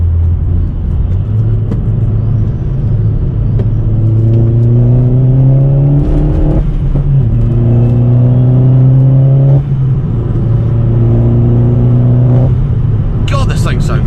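Opel Corsa OPC/VXR engine pulling hard on an open road, rising through the revs in three successive gear pulls with short shifts between, loud and close inside the car.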